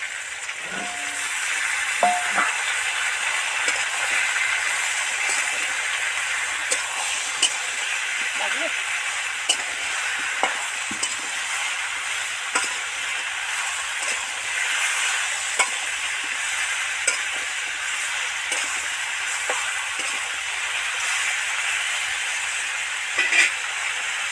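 Mixed vegetables with tomato and potato fry and sizzle steadily in hot oil for a vegetarian dish, a constant bright hiss broken by occasional stirring clinks close by, with no one talking.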